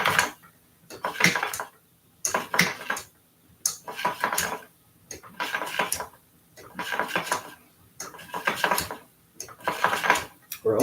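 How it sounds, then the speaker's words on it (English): A wooden drop spindle spinning and plying yarn makes repeated bursts of clicking and rattling, about one every second or so, close and fairly faint, with a knot in the wool adding extra noise. "We're almost done with this very noisy spindle."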